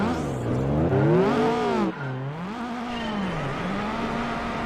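A Peugeot 205 GTI in Gran Turismo 4 drives on a low-grip ice arena, its engine note rising and falling as the revs change, heard loud and close under tire squeal.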